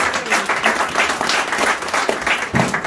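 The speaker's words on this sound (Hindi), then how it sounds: "सुहेल जरार के लिए एक बहुत जबरदस्त तालियां लगा दें" A mushaira audience at an Urdu poetry evening in a hall gives steady, dense applause throughout a short burst of clapping, with no break in the sound.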